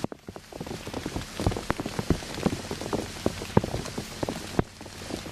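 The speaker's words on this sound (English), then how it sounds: "the rain has picked back up." Rain falls steadily in oak woods during a mid-December hunt, a dense close patter with heavier drops tapping irregularly on nearby surfaces.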